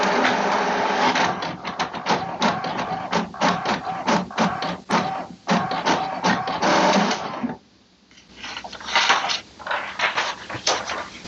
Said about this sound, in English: press on the I button, which will print an information page